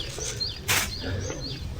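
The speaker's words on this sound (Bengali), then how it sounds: "পাখির আওয়াজ শুনেছো?" Birds in a quiet park in Japan chirp in short, high, sweeping calls, several in a row, with a brief rushing noise partway through and no voices.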